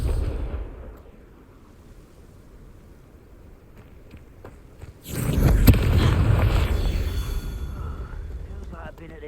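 Confringo fire spell exploding in the video game Hogwarts Legacy, a sudden loud blast that swells into a sustained rumbling roar after a quieter stretch.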